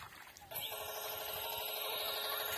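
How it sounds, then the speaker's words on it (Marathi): A mobile phone ringing on a sugarcane farm, a faint electronic ringtone that starts suddenly and repeats in a steady pattern, with quiet outdoor background before it. "बोबला फोन वाजला"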